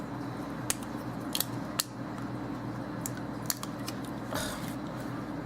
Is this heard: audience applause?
no